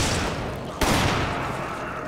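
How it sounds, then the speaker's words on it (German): Gunfire in the video game Resident Evil 5, a dense stretch of shots with a sharp, louder burst partway through, near and steady throughout. "Erstmal die Typen hier abknallen"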